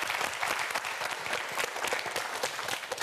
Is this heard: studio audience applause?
yes